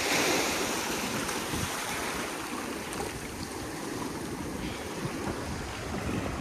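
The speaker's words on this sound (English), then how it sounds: "I don't know if these waves come pounding in." Ocean waves pound onto the beach at Avon-by-the-Sea, a steady broadband roar of surf mixed with wind buffeting the microphone, loud and continuous with no voices.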